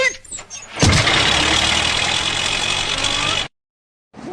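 A vehicle engine catches with a sudden loud burst and runs at a rough steady idle for a few seconds, then cuts out abruptly before another start, with faint voices at the edges.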